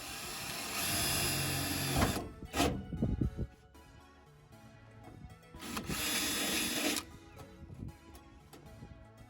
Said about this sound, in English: get ready to drill it out with the 3/16 inch drill bit